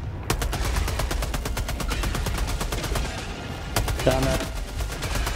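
Rapid gunfire in the video game Helldivers 2 against bugs: long bursts of regular shots sounding steadily near and loud, a brief pause, then more sustained firing, with a short spoken remark over it.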